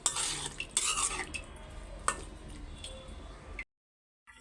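Radish and potato being stir-fried in a pan, with close spoon scraping and clinks against the pan over a light sizzle, a few sharp knocks, then a sudden cut to silence.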